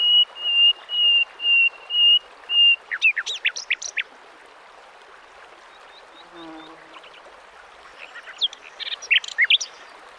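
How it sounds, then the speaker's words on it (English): A nightingale sings hidden in the branches beside a spring creek in Spain, with two short bursts of bright, rapid chirping notes over a soft, steady water-like background. "Concealed between the branches, a nightingale."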